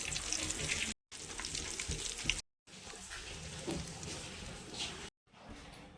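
Seeds crackle and sizzle as they temper in hot oil for a chutney, a bright, continuous frying hiss broken by a few short silent gaps.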